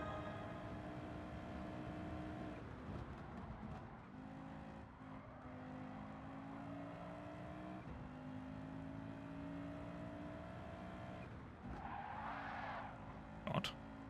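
A Pikes Peak race car in Gran Turismo 7 drifts with a continuous squealing tire skid over a droning engine note whose pitch steps with gear changes, ending in a louder screech and a brief knock.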